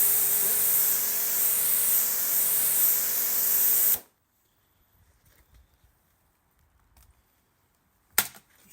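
A Halfords pressure washer sprays water through its nozzle with a loud, steady, close hiss for about four seconds, then cuts off into near silence broken by faint knocks and a brief final burst.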